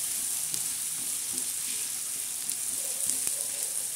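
Green chilies, crushed garlic and salt sizzle and fry in a pan while being stirred, a steady hiss with occasional soft scrapes and clicks, close and continuous.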